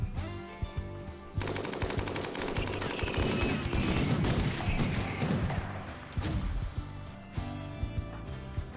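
Rapid automatic gunfire and scattered shots from a RimWorld colony firefight, dense bursts running nearly continuously with thuds, loud and close, no talking.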